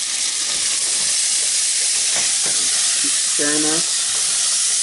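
Onions frying over medium-high heat in a pan for shrimp creole, a loud steady sizzle with stirring scrapes, and a voice briefly speaking over it.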